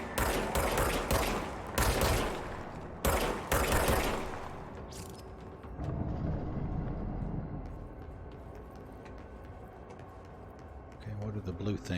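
Several loud bursts of gunfire from a weapon in the video game Control crack out in the first few seconds, then give way to a lower rumbling game ambience that fades toward the end.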